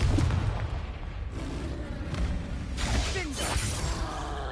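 Confringo blasting spells cast in Hogwarts Legacy on PS4 at hard difficulty, heard as booming, shattering blasts with whooshes layered over dense, continuous combat noise, with a voice talking over part of it.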